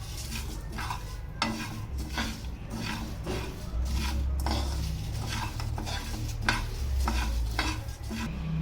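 Spices stirred in a still-hot pan with the heat turned off, rhythmic scraping strokes repeating roughly every half second over a faint sizzle, close and without speech.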